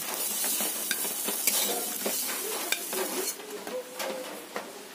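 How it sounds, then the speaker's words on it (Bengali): Pumpkin pieces sizzle in hot mustard oil in a pan, a steady bright frying hiss broken by frequent scraping stirs and light clinks of a spatula, close and continuous with no talking. "কুমড়োটা আমার ভাজা হয়ে গেছে।"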